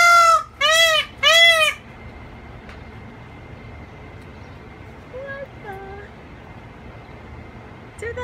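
Peacock giving three loud, harmonic wailing calls in quick succession near the start, then two fainter, more distant cries a few seconds later, over a steady low background hum.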